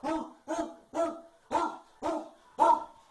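A dog barks six times in a steady, evenly spaced series, each bark close and loud, with no other sound between them.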